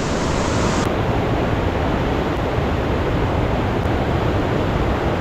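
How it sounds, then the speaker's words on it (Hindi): A river in Arunachal runs with a steady, dense broadband rush, close and constant for the whole stretch, with no break in flow and no voices over it. "तो यहाँ ये वाला नदी पर आया हूँ।"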